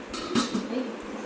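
A copper or brass kadhai is handled, giving a few sharp metallic clinks and knocks close by. A faint murmur of room sound sits beneath them.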